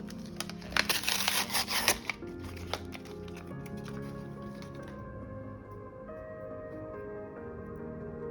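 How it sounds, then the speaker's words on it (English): Adhesive tape being opened for a cross-stitch project, a burst of crinkly tearing and crackling handling noise up close in the first two seconds, then quieter rustling and faint handling for the rest. "I'm going to open my adhesive tape."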